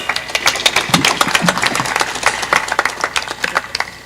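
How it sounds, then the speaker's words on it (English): Audience clapping at the Catholic University of Eastern Africa's 44th graduation ceremony, a dense, lively round of applause from a large crowd that holds steady throughout with sharp individual claps standing out. "Let's give Dr. Okech a better clap."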